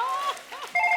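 A short electronic phone ringtone chirps in a few quick melodic beeps, fairly loud and close.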